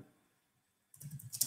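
Quick run of keyboard keystrokes on a computer, starting after a near-silent pause and building into a burst of closely spaced clicks and taps, fairly close and clear.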